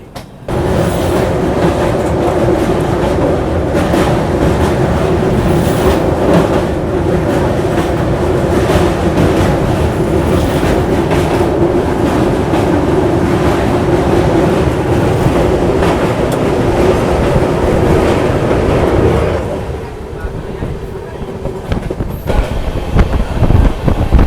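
The Ganga Kaveri Express passenger train rolls along the rails in a loud, steady roar with rhythmic clatter and rumble for most of the stretch, easing slightly near the end.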